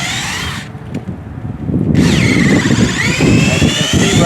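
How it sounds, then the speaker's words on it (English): A 7/16 bit drills a tap hole about 1.5 to 2 inches into a maple tree, a loud, close power-drill whine that pauses briefly and then resumes, with no talk over it. "Drill our hole."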